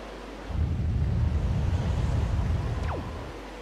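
Steady wind gusts through a sailing scene in the video game The Legend of Zelda: The Wind Waker, a broad rushing swell that rises, holds and fades, with a brief faint whistle near the end.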